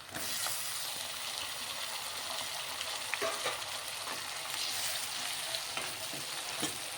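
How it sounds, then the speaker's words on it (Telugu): Two tomatoes frying with onions in a pan, making a continuous close hiss and sizzle with a few soft stirring knocks over it. "టమాటా కూడా బాగా ఫ్రై అయిపోయేదాకా ఫ్రై చేసుకుందాం"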